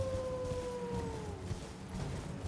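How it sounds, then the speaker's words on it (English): A long, wavering howl in the Elden Ring video game, out in East Limgrave, sliding slowly downward in pitch and holding steady over a low ambient game backdrop. "howling."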